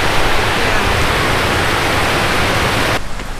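Palmer Creek in Hope, Alaska, flowing steadily as a loud, broadband rush of water that fills the whole span, easing a little near the end.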